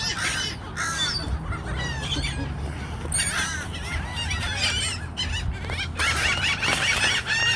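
Geese and other birds honk and squeal in a noisy flock at a bird park in New Orleans during feeding time, with overlapping calls close by over low background chatter.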